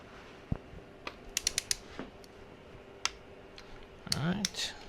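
A torque wrench is used on LS 5.3 engine rod bolts during the torque sequence, giving scattered faint clicks and short ratcheting bursts, with quiet sounds of the engine build around them.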